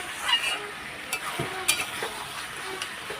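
Potatoes with poppy seeds being stirred in a pan for aloo posto, a soft sizzle under scraping spoon strokes and a few light clicks against the pan, fairly close and steady.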